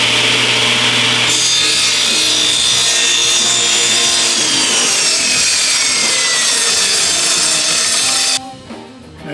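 A table saw pushes hardwood through a crosscut jig, a loud whining blade with a grinding cut that runs steadily for several seconds before the cut ends and the blade sound drops away abruptly.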